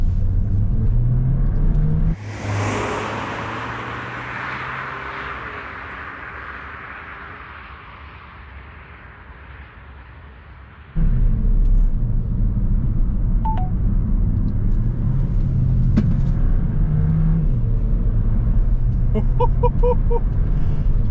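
A Mercedes A180 with a 1.3-litre engine in sport mode, heard from inside the cabin: the engine revs up loudly, drops after a shift and winds down, then surges back hard, with soft electronic chimes near the end.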